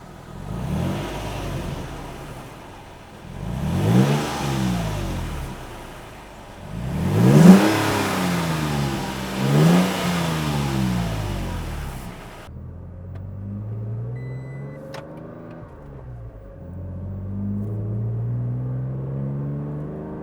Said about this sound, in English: So this exhaust, AFE categorizes it as deep sounding.